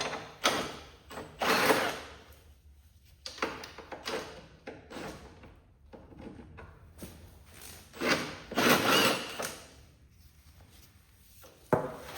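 Front hood bolts being removed with a 1/2 inch wrench on a Cub Cadet 1864 plow tractor, making close metallic ratcheting, rubbing and clanking in uneven bursts with quiet gaps.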